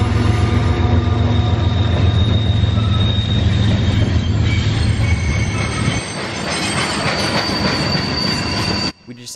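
A freight train with DPU locomotives rolls past at dusk, loud and close, a continuous heavy rumble with high squealing wheels and steel clatter that eases off near the end.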